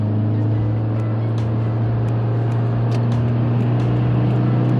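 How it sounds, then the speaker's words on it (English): A Subaru WRX with a Cobb Stage 1 tune pulls hard in third gear, a loud steady engine drone from inside the cabin, with occasional sharp clicks over the constant hum. "nice third gear pull"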